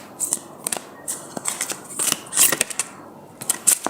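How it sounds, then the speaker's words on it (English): Crisp riffling and snapping of cards being shuffled in quick bursts, close by, with brief pauses between shuffles. "This deck doesn't always shuffle very well."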